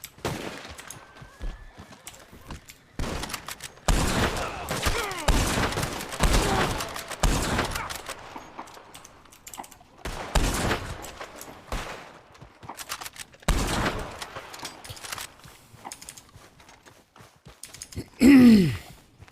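Gunshots ring out in a police roleplay video game, several sharp separate bursts scattered across the scene, loud and close, with quieter stretches of ambient game noise between them.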